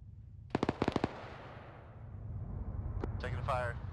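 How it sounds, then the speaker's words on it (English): Incoming gunfire in Arma 3, a quick cluster of five or six sharp cracks followed by a lone shot, with radio-style voices talking near the end. "Taking fire."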